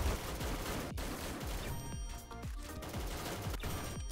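Rapid bursts of gunfire in the shooting game XSHOT, fired at mummies, dense and continuous with repeated sharp shots over a busy game soundscape throughout.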